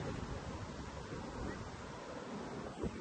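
Sea waves wash and break along the beach at Ganpatipule, a steady rolling surf roar mixed with wind buffeting the microphone, continuous throughout with no voices.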